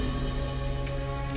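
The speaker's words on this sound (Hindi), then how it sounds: "बिजली जोर से कड़की और मूसलाधार बारिश शुरू हो गई।" Heavy downpour of rain as an effect in a Hindi horror story on a stormy night, a steady dense hiss of drops on a surface, loud and unbroken, with no voices.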